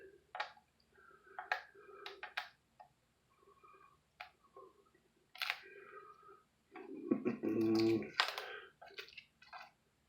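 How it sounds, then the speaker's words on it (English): Protective paper being peeled off a Roku Ultra 2018 streaming box, producing intermittent crinkly rips and crackles, with a longer tearing burst near the end, close and fairly quiet. "Let's pull this paper off so you can maybe make sure you actually see"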